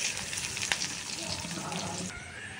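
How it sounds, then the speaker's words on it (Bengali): Onions fry in a little oil in a pan, giving a close, steady sizzle with crackling spits that softens slightly near the end, with faint talk in the background. "কড়াতে আর একটু তেল দিয়ে পেঁয়াজ দিলাম অল্প পরিমাণে"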